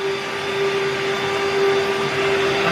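A household vacuum cleaner runs steadily and close, sucking up debris dropped on the floor, its constant whine holding a strong tone throughout with no talking.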